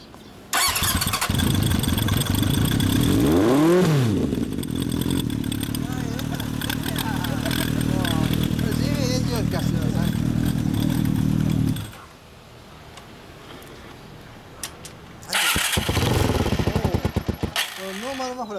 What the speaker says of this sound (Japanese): ちょっとごめんな、エンジン音聞かせてもらえるかな。